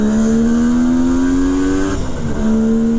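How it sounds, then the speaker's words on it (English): A 1973 Kawasaki S1 250 Mach I two-stroke engine drones loudly at a steady high pitch, climbing slightly, then briefly drops and wavers before settling back into a buzzing rev, close and continuous, on a street. "the joyous sound of the two-stroke bellowing up West Main Street"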